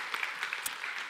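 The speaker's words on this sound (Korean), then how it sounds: "서로에게 격려의 박수 한번 해주십시오." Brief burst of applause from a Korean church congregation during Sunday worship, scattered hand claps rattling quickly and unevenly at moderate volume, lasting only a moment with no talking.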